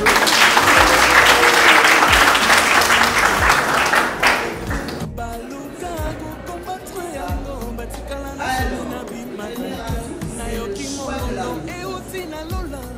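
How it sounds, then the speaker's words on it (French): Wedding guests at an official wedding ceremony in Brazzaville, Congo, applaud the couple with loud, dense clapping for about four seconds, then the clapping fades into scattered claps and room murmur. "Et vous également, vous applaudissez pour eux"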